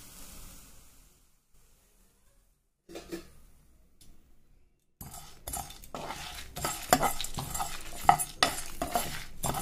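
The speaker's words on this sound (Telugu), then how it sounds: "ఇవన్నీ ఎర్రగా వేయించుకోవాలి." Coriander seeds and dried red chillies fry in a pan, and a spoon stirs them with scraping, clinking strokes that grow louder and busier after a quiet start, close and without talk.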